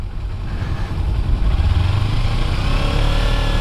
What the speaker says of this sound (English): I'm afraid to rev the throttle so hard on this bike